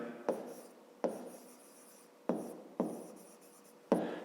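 Five separate strokes of writing on a board during a fifth-grade maths lesson, each a short scraping mark with a sharp onset, spaced about a second apart and close up, with no talking.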